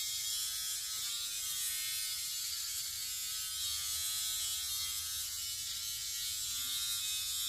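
A small electric nose-hair trimmer buzzes steadily at close range with a high, hissy whine, its tone shifting slightly with faint crackly cutting as it works inside a nostril, continuous and without talking.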